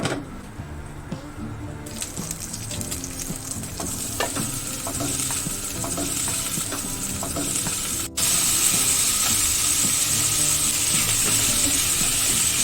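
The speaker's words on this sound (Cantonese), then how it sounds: "用中火嚟爆。" Oil sizzles steadily in a wok over medium heat while stir-frying for a taro and pork rib dish. The close, continuous hiss is joined by light scraping and clatter from stirring.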